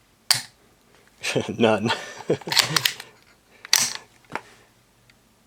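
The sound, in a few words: AR-15 charging handle racked, bolt released, trigger tested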